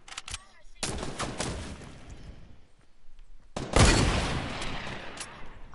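Bursts of gunfire in a shooting game crack out in rapid clusters, a short volley at the start and a louder sustained burst later, with quieter stretches between.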